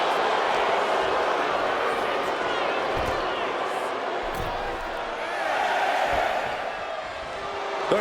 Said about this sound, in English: The crowd is fired up.